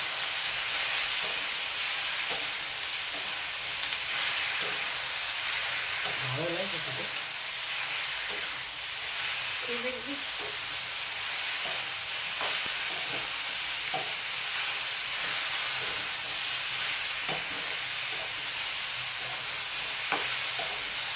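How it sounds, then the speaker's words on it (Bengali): Cauliflower and eggplant curry with turmeric being stirred in a pan gives a steady soft sizzle, scraped by a few brief utensil strokes and light clicks, heard close with no talk over it. "এবার একসাথে আমি নাড়াচাড়া করে নেবো একবার"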